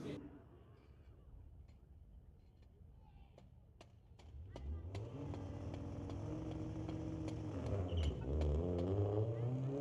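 A Subaru race car runs at Mission Raceway Park drag strip on a street-legal Friday night. A distant engine drone swells after a few seconds into a louder, rising mechanical growl.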